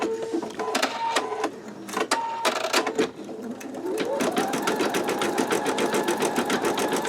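An embroidery machine with a magnetic hoop stitches steadily, its rapid needle clatter opening in short broken bursts before settling into a continuous, fast, close rhythm; a voice talks over the start.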